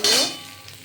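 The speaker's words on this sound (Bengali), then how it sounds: "এই ছোলা ভাজাটা সব নেড়ে দিলাম" A single brief metallic scrape and clink as fried chickpeas are stirred in a hot kadai, ringing out and fading quickly.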